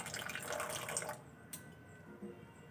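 Vinegar diluted with water is poured into milk for homemade kalakand. A short, close trickle of liquid lasts about a second, then the sound drops to quiet room tone with a soft click.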